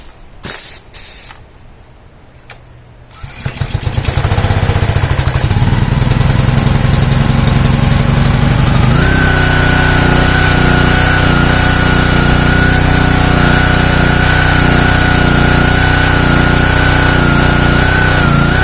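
A Simpson pressure washer in need of repair starts after a few quiet seconds and settles into a loud, steady small-engine roar, its pitch stepping up about halfway through and holding with a constant high whine.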